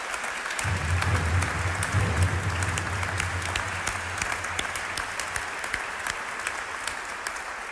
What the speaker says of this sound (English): That applause gives me hope